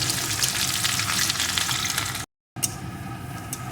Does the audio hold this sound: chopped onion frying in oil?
yes